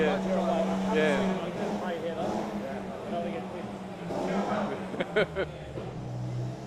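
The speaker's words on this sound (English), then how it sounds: "He's dynoing the car, so we're going to get a power graph of the car" A 2005 Porsche 911 RSR, the 996 generation, runs on a dyno, its engine droning and rising in pitch under steady revving, with a few sharp bursts near the end while people talk nearby.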